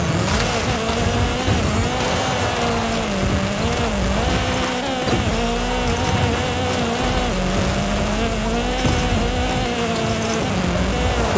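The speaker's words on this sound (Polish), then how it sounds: "Cisnę mu co prawda gaz do końca na dwójce, ale daje radę, on jest naprawdę mocarny." A powerful car in Forza Horizon 5 is held at full throttle in second gear on a volcano climb, its engine a loud, sustained high-revving whine with repeated pitch rises and dips as the revs surge.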